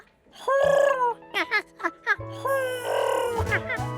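A cartoon character's voice imitates a pigeon with a series of short, warbling, clucking coos over a steady musical backing, loud and close, in a Curious George animated scene.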